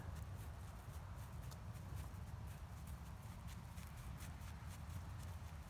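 Horses walking out to graze across short grass, hooves clip-clopping in a steady, faint, slightly distant rhythm over background noise.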